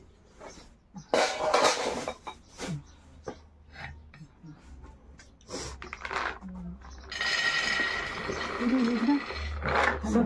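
Steel utensils and pots being put away in a home kitchen, with irregular clanks, knocks and clinks spread across the stretch, some loud and close, over a low background hum.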